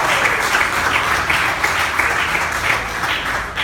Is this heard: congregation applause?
yes